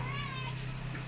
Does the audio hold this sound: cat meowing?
yes